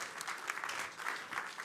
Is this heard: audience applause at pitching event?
yes